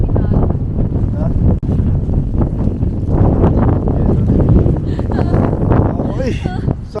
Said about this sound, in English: Oh, grabe kayong hangin.